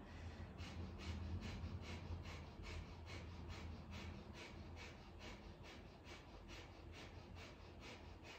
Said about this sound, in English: Breath of fire as you flap the knees.